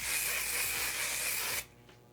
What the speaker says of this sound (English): This is such an aggressive spray.